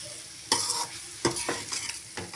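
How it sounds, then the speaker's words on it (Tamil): A spoon scrapes and stirs cauliflower and egg fry in a pan, giving several distinct close scraping strokes over a soft frying sizzle. "அடி பிடிக்காத மாதிரி அப்பப்போ கலந்து விட்டுக்கோங்க."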